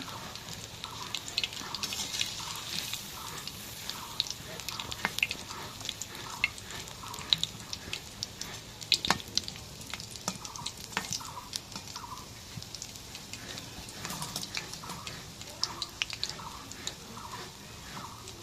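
Boondi, drops of gram flour batter, frying in hot oil for sweet boondiya: a continuous close crackling sizzle with a steady run of soft rhythmic bubbling pulses and scattered sharp pops, no talking.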